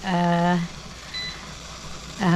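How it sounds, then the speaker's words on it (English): Two bursts of loud electronic beeping from a Presto digital pressure canner, one at the start and another at the end, separated by a steady background hum. "beeping lets us know that it is time to put the regulator on"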